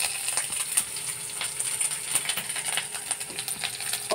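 Chopped garlic goes into a small amount of hot oil and fries with a busy, close crackle of small pops and spits, steady throughout, with no talk.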